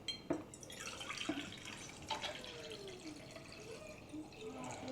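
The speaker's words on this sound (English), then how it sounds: "Now I add the water." Water runs from a kitchen tap while a child's lunch is being prepared. The trickle is soft and uneven, with a few distinct drip-like splashes throughout.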